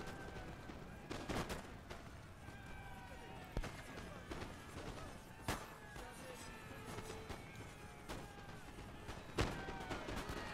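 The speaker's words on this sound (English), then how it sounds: "This is an intense firefight." Musket volleys crackle in a Napoleon Total War battle, with sharp individual shots rising from a dense, continuous din of distant gunfire, and a commentator's voice running underneath.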